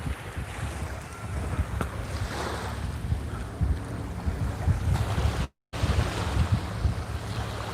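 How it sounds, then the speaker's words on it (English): Ocean water at Cape May, New Jersey washes and laps steadily with wind rushing across the microphone, a continuous open-air wash with one brief dropout. "the water is soothing, isn't it, Gwen?"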